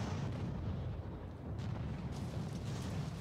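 Cannons fire in a naval and land battle in the Ultimate Admiral: Age of Sail video game, a dense continuous rumble of distant booming artillery with no clear gaps.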